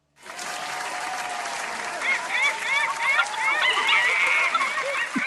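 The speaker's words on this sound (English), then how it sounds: "Just pop that applause sign back on for a minute." Studio audience applause set off by an applause sign on a comedy show, a dense, steady wash of clapping that swells and stays loud, with squeaky honking whoops and cheers rising through it.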